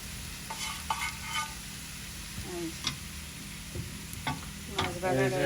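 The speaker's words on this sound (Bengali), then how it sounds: "আজকের মাছ ভাজা হয়েছে শুকনো মাছ ভাজা" Dried fish frying in a pan, with soft sizzling under intermittent stirring and scraping of a utensil against the pan, close and fairly quiet, marked by a few sharp ticks and clinks.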